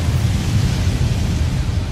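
A heavy, rumbling explosion blast from the Hadō #91 Senju Kōten Taihō attack in a Bleach video game, a continuous loud roar that stays at full strength throughout with no voices over it.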